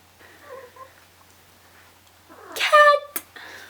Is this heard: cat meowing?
yes